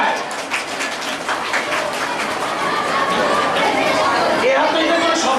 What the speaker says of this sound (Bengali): তার জন্য জোরে একটা হাততালি চাই।